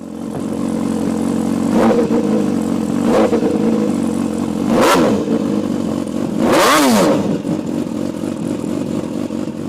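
An MV Agusta F4 sport motorcycle engine idles loudly and is revved up sharply several times, the revs climbing and falling back in quick surges.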